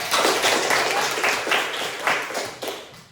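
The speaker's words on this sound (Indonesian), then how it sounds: "Tepuk tangan." A small group claps in a classroom-style teaching session, a short, brisk patter of hands in loose pulses, fairly close and with no talk over it.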